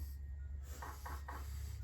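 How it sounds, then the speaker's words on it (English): Three small, soft knocks in an even rhythm on a toy answer box door, quiet taps over a steady low hum. "Hey, 3 tiny knocks. Guest number 3 is at the door."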